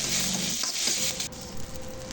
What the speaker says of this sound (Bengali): তো এটা হালকা আঁচেই ভাজতে হবে।